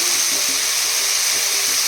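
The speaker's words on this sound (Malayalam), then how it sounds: "കുറച്ച് വെള്ളം ഒഴിക്കണം." Water splashes into a hot pan of spluttered mustard seeds and oil, producing a loud, unbroken sizzling hiss with faint bubbling underneath, and no voices.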